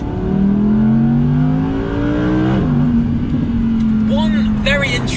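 A 2019 Audi R8 V10 Performance engine climbs steadily in pitch as the car accelerates hard, loud and close, with a brief shift dip midway and faint chirps near the end, no talking.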